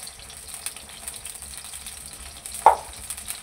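Okra pieces frying in hot oil for masala bhindi, a steady soft sizzle with a sudden louder splash-and-hiss near the end as more goes into the pan.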